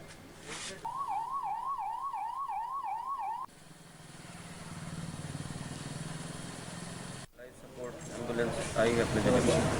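A new ambulance in a Chhattisgarh district sounds a wailing siren that rises and falls in a fast, regular cycle, fairly close, followed by a low engine rumble and passing traffic noise.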